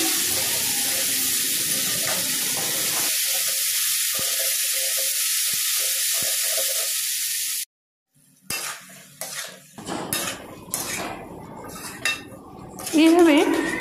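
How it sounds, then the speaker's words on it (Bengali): Chili powder and salt are stirred into a sizzling pan, a steady hiss of frying that cuts off, then gives way to scattered scraping and clinking of a utensil against the pan. "এইভাবে বেশ ভালো করে নেড়ে চেড়ে নিতে হবে"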